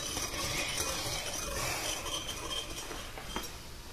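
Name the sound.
stirring sugar into hog nog mixture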